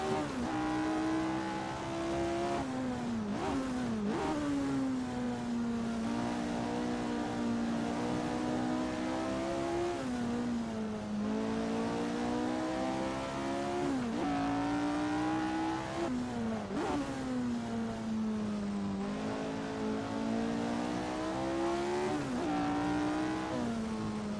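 Racing car engine in a racing video game, loud and continuous, rising and falling through repeated revs and gear shifts over the whole stretch, with occasional tyre squeal.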